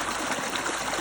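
Water rushes fast and steadily along an irrigation channel through a tomato field, a continuous close-up gushing flow with no pauses.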